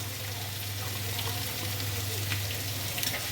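Fried rice with spring onion and coriander leaves sizzles softly while being stirred in a pan, a quiet continuous crackle with light scraping.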